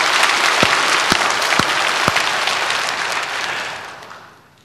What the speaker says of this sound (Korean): 그럼 박수 한번 쳐야지 그럼